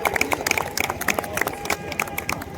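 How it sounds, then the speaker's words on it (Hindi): An audience at a university birth anniversary function claps, quick uneven overlapping hand claps under a murmur of crowd noise, brief and moderately loud. "तो एक बार तालियां बजा दीजिए जोर से"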